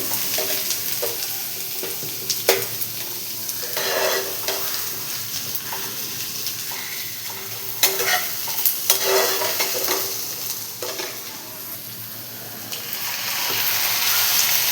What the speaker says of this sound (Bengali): তার জন্য কড়াইয়ে তেল গরম করে পেঁয়াজ দিয়ে দেব।